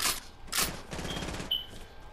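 Fortnite gunfire crackles in a few short bursts, with two sharp loud volleys and lighter rattling between them, all fairly close and with no talk over it.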